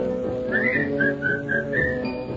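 Melodic whistling in a 1938 radio song, a bright tune of short connected phrases carried over a band accompaniment, clear and up front.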